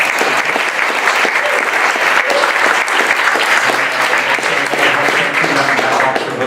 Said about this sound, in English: A round of applause to our panel.